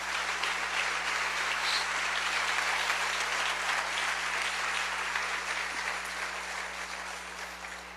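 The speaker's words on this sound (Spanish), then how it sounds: "denle un aplauso al Señor" A large church congregation applauds steadily and loudly, a dense wash of clapping that holds throughout and fades slightly toward the end.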